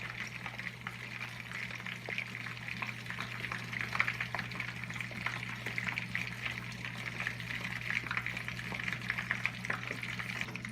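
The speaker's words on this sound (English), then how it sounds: "I'm just flipping the chicken real quick while the tomato paste dissolves in the little sauce mixture." Chicken fries in a pan with a tomato paste sauce mixture, giving a steady, moderately loud sizzle and bubbling with small crackles throughout, over a low constant background hum.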